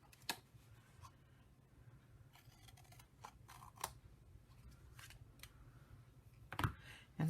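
Scissors snip and trim small paper pieces off a peel sheet, a series of quiet, crisp cuts and rustles spaced irregularly, ending with a louder clatter, and someone speaks softly in the background.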